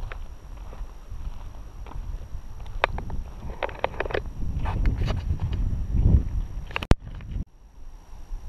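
Horses walking in the countryside near Sklithro, Greece, their hooves clip-clopping in irregular steps at close range, with a few sharper knocks and a sudden bump near the end, no speech.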